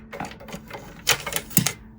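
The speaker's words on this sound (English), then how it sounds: "my cat's licking a plastic bag" A cat licks a plastic bag nearby during jewelry making, producing quick crinkly, crackling rasps in irregular bursts, fairly close and alone without speech.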